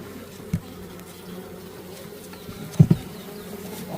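Honeybees at a weakened hive that has just come out of winter cold storage hum with a low, steady buzz. A few louder close passes of individual bees rise briefly above it.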